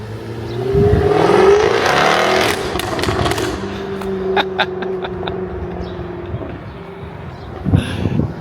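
A Jaguar F-Type R sports car engine approaches and revs, growling loudly, then settles to a lower rumble with a few sharp bursts as it passes.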